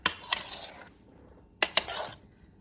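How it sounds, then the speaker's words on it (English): Meatballs being stirred in sauce inside a cooking pot, giving two short bursts of clinking and scraping from a utensil against the pot, close and fairly quiet, with a pause between them. "Now I'll just mix this and put it on the stove"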